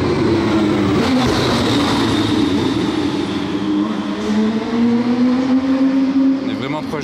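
A Bugatti Chiron passes at night during the Monaco Grand Prix weekend 2022, its engine tone rising and falling as it drives by amid loud crowd and street noise, with people talking nearby.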